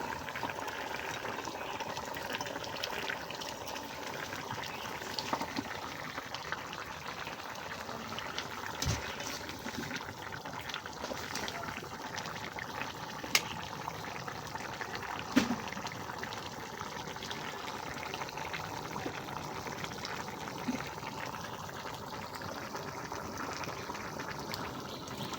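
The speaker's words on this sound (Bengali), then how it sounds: "আমার তরকারিতে বলক উঠে গেছে" A pot of small-fish curry at a steady boil, giving a continuous, even bubbling and hissing simmer close by, with no talk over it.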